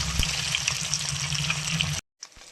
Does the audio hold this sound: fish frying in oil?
yes